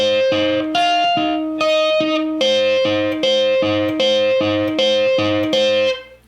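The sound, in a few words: distorted electric guitar riff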